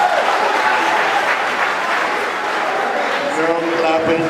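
An audience at a 2019 Imo State governorship debate in Nigeria claps in a dense, steady patter that lasts a few seconds, with crowd murmur and a voice emerging near the end.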